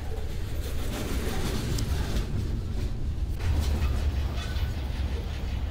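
A freight train rolls past at close range as it picks up speed, a steady loud rumble and rattle of rail cars with faint clatter, continuous and without talk.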